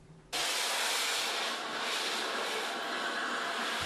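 The Flying Scotsman steam locomotive on the Swanage Railway in Dorset releases a loud, steady roar of hissing steam that starts abruptly and continues unbroken, close and dominant.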